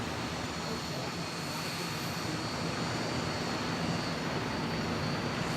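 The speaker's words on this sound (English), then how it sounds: "747's going past" A Boeing 747 jumbo jet passes at an airport, its engines giving a broad, steady roar that fills the whole stretch without breaks.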